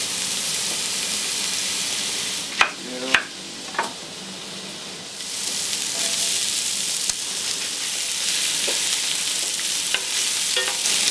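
Onion dropped into hot oil in a casserole pan, with a strong steady sizzle and a few sharp clatters and stirring scrapes early on, close by.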